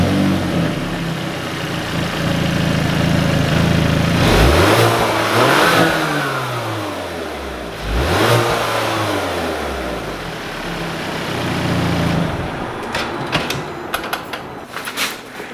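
Hyundai Veloster N engine on its stock closed-box intake, revved twice while stationary. Each rev rises and falls smoothly over a steady idle, sounding muffled and close, and light clicks follow at the end.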